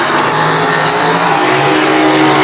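Super sedan race cars at the Winternats drag racing event, with a loud, steady engine roar that fills the clip, dense and unbroken, no voices.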